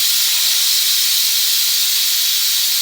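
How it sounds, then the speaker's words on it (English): Steam bursting from a pressure cooker's release button, a loud, steady, bright hiss held without a break at close range, with no other sounds. "this one has a button that you push and the steam comes out."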